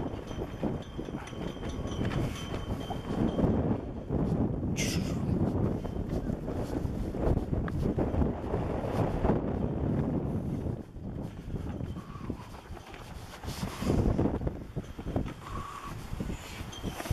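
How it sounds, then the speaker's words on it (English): Strong wind blows outdoors by a road in North Carolina, roaring steadily across the microphone with gusts and flapping bursts throughout, loud and close. "A little windy out here, so I don't know if you can hear me"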